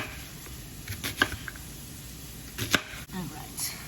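Knife slicing ingredients for pork chops in a kitchen, heard as two sharp, separate cutting strikes against a quiet background.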